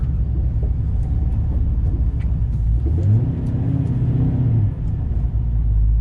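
A Ford Mustang GT500 no-prep drag car on a drag pack roars up through the gears, its engine note rising and shifting mid-run as the tires break loose, loud and close.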